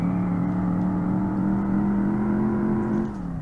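A car engine in the racing video game Revhead holds a loud, steady high-rev drone with a bright tonal hum, then the pitch drops and the sound eases off as the throttle is released near the end.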